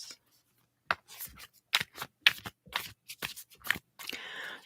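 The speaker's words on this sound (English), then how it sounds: "I will be shuffling the cards for" Tarot cards for an Aquarius reading are shuffled close up in a quiet ASMR setting, with crisp riffles and soft slides coming in uneven bursts and no talk over them.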